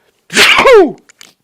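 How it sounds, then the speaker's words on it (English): A single sharp, loud sneeze up close, a quick breath followed by the explosive burst, then silence. "sorry, I gotta sneeze."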